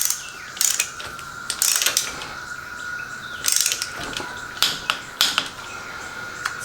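Ratchet wrench tightening head bolts on a 2013 Grasshopper diesel mower, a close series of short sharp clicking bursts separated by pauses over a faint steady tone.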